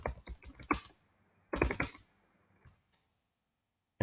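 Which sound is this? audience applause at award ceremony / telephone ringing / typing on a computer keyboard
typing on a computer keyboard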